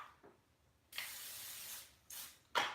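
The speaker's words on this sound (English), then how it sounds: "I'm going to use olive oil spray." Olive oil cooking spray hisses into a pan heating on the stove, coming in a sustained burst of about a second, then a shorter second spray and a sharp third puff, close and fairly loud.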